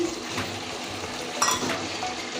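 Fried potatoes tipped into a pan of chicken already frying, a steady sizzle with a brief clatter as they land, no voices.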